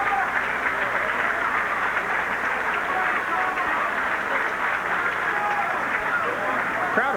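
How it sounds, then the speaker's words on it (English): A boxing crowd applauds and murmurs after a fight, a dense, steady wash of clapping and babble, loud and continuous throughout with no clear break. "Crowd appreciates it."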